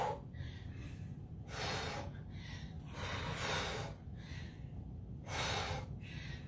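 Heavy, rhythmic breathing from a person doing squats in a boot camp workout, with repeated loud gasping inhales and exhales in a steady cycle, close and alone without talk.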